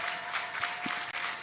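Applause and hand clapping from the audience at a gender and human rights moot court awards ceremony, a dense, steady wash of claps sustained throughout with no clear gaps.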